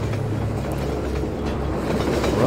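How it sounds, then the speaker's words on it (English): A runaway train rolling along rails in the Half-Life 2 video game, a loud, continuous rumble with a rhythmic clatter of wheels, close and steady with no talk over it. "Runaway train there."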